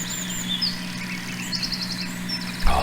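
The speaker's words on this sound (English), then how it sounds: "Oh, listen to that bird song, isn't it beautiful?" Birdsong in Farming Simulator 19, on a farm map, with a Fendt platform nearby: light, fairly faint chirps and short trills come and go over a continuous low engine idle, and a brief thump sounds near the end.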